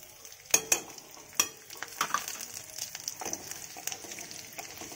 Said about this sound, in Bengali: এবার আমি 5 ফোড়ন আর রসুনটা দিয়ে দেবো